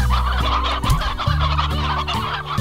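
A roostro, the rooster-like slime in Slime Rancher, lets out loud gobbling, clucking calls, several bursts in a row, up close and alone.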